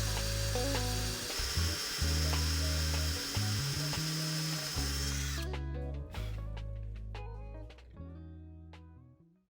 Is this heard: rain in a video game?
no